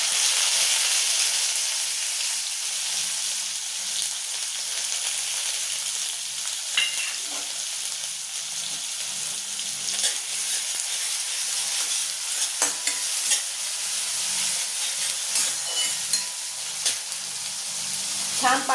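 Chopped onion frying in a pan with mustard seeds, cumin and garlic for a dry vegetable dish, giving a steady close hiss and sizzle throughout with faint occasional stirring clicks and no talk.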